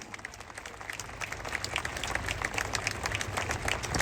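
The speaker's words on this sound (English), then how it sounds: "Keep up that applause, everyone." Outdoor crowd at the Braemar Gathering applauding the arrival of the King and Queen, a steady dense wash of clapping that builds slightly and holds, with no clear voices over it.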